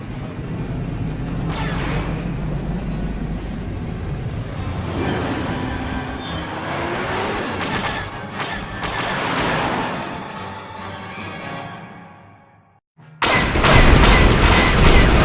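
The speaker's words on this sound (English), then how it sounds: "That's because the turret blaster's loud" In the KOTOR video game, a ship's turret blaster fires at Sith fighters: dense, loud, rumbling bursts of fire continue for most of the stretch, drop away briefly, then a sudden, powerful blast erupts near the end.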